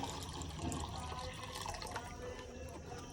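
Water poured out for pigeons on a Punjabi rooftop, a steady trickling splash with a faint running flow, moderately quiet and continuous, with no voices over it.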